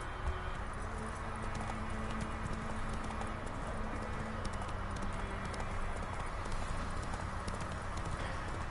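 Roach, a horse in The Witcher III, gallops with a steady, rapid clip-clop of hooves that runs the whole stretch at close range over a constant bed of game ambience.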